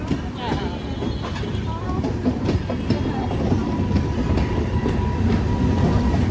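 A train rumbles steadily along the rails, a loud, continuous roar with rhythmic clatter, close by throughout.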